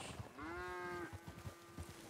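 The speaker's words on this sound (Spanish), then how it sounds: "En fin, vacas." Cattle moo in a Red Dead video game, a single long, drawn-out low call rising then holding steady, with a fainter second moo trailing after it over soft background ambience.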